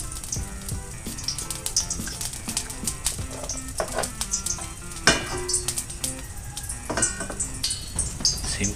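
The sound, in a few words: popcorn cooking in lots of oil in a pan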